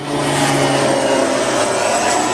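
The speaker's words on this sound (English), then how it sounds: "It's our Beechcraft." A Beechcraft aircraft passing at Gold Coast Airport, producing a loud, steady engine drone with a sustained tonal hum, heard close and alone throughout.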